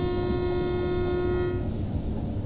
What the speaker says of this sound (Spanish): El claxon.